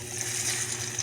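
Garlic frying in hot cooking oil, a steady dense sizzle with a constant broadband hiss, close and even throughout, no voices.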